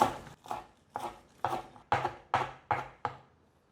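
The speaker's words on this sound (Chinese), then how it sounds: "把芹菜的叶子切碎" A knife chops tender celery leaves on a board in eight crisp, evenly spaced strokes, close and clear, with no talking.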